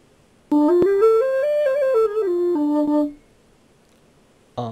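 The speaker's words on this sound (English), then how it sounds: "That's the sound of the Overgrowth flute." A wooden flute plays the Overgrowth theme as one clear melodic line of about two and a half seconds, with a gentle rise and fall, then silence before a brief loud burst.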